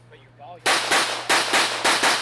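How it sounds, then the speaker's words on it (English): A single-stack pistol fires at a USPSA shooting match, six sharp loud shots in quick succession after a brief quiet lead-in, with faint voices audible before the first shot. "So here we got a new shooter shooting single stack."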